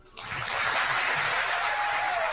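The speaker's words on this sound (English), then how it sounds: "Look how they're cheering him." A town hall audience bursts into applause and cheers as Donald Trump enters, the sound rising sharply and then holding as a dense, steady wash of clapping.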